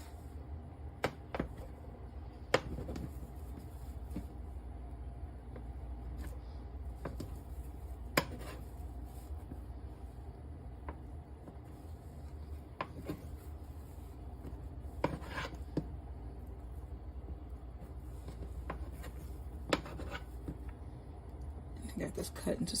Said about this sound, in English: Okay, so now we want to cut this up.